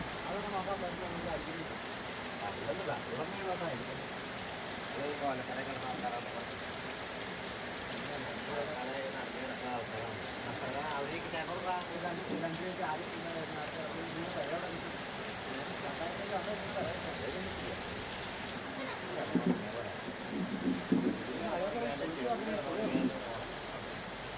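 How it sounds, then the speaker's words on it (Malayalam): Heavy rain keeps up a soft, continuous hiss throughout, while voices talk over it at a fairly low overall level. "ഒരു നല്ല തകർപ്പ മഴ അങ്ങോട്ട് പെയ്തു കേട്ടോ"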